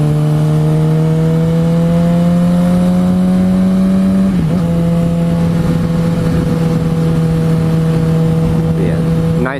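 A GSX-R 750 motorcycle rides steadily on a sunny mountain road in California, its engine droning loud and close with a brief gear change midway, wrapped in constant rushing wind noise.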